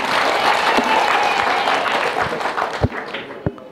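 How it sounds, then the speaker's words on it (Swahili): Applause for Dr. Samia from a crowd, a dense wash of clapping that thins out into scattered individual claps toward the end. "Makofi mengi kwa Dr. Samia."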